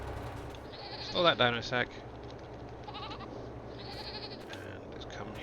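Goats bleat in a Farming Simulator game on the PV Canyon Crossing map, a close cluster of wavering cries lasting under a second over a steady farm-machinery drone, while someone talks.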